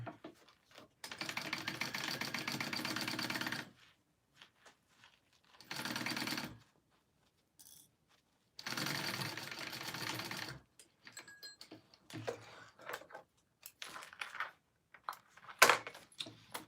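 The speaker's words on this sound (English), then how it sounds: "make sure you're not sewing in the flap in that" A sewing machine stitches a pocket closed in three bursts of steady, fast mechanical whirring with pauses between, followed by quieter handling clicks and taps near the end.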